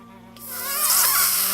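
A housefly buzzes in a dark bedroom, its whining drone swelling louder as it passes close by, heard alone over a faint low background hum.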